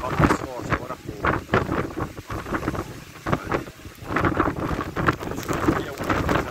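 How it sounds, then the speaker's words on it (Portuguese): Strong wind sweeping through a city in Goiânia during a windstorm, roaring and gusting in irregular bursts with rattling and buffeting close to the microphone, while someone talks over it. "Olha o vento, gente."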